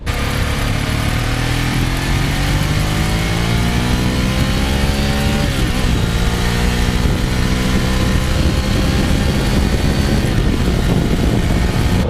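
A Ducati 800 Monster S2R motorcycle engine, heard close and loud while riding, holds a steady drone with rising and falling revs as it pulls through gears, continuous with no pauses.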